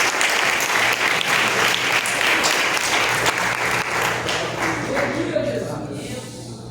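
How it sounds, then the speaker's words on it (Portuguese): A church congregation stands and applauds, a dense, loud wash of many hands clapping together that holds steady and then begins to fade toward the end, with voices mixed in. "Eu gostaria que você ficasse de pé e aplaudisse a Jesus com muita alegria"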